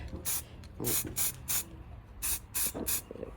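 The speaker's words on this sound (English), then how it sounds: "Well, whilst we got some black spray paint," Several short bursts of black aerosol spray paint hissing, each about a quarter second long, in an uneven rhythm with quiet gaps between them, close up.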